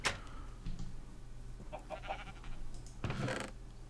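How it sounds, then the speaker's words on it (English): Sheep bleat in a video game, a few short cries at about two and three seconds standing out over a steady low game hum. "Oh, sheep spawn now."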